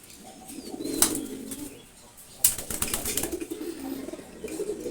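Male pigeons in a loft give soft, low cooing with a couple of sharp wing flaps or clatters, heard fairly close in a quiet space without talk.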